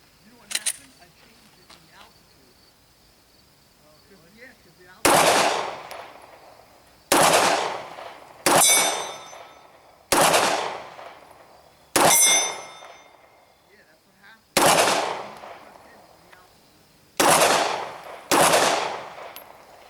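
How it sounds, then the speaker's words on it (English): A Glock 19 Gen 4 9mm pistol is fired at a long-range steel end plate, with eight sharp, loud shots spaced a second or two apart, several followed by a faint metallic ring from the distant plate. "So we're going to go ahead and just empty this last magazine right here and see if I can dial into that end plate."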